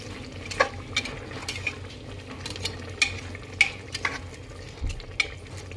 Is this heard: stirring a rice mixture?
yes